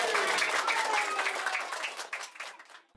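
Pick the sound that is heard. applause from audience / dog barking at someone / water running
applause from audience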